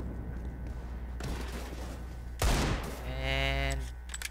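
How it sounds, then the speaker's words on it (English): A grenade goes off in Counter-Strike: Global Offensive, with a sharp close blast after low background game noise, followed by a ringing, fading tail. "Throwing a grenade."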